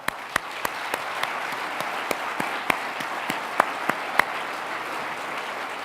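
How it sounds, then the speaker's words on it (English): An audience applauds Phoenix Mayor Greg Stanton at his State of the City address, with dense clapping throughout and sharper individual claps standing out near the front. "Mayor Greg Stanton, let's give him one more round of applause"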